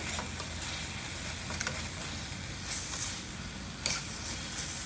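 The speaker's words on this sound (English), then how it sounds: "After 15 minutes we will remove the lid and stir the meat well." Quail meat fries in masala in a pan while being stirred, giving a steady close sizzle with scraping stir strokes at intervals, no voices.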